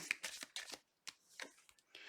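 Tarot cards being shuffled by hand, a few close, quiet bursts of riffling and flicking paper with short pauses between them.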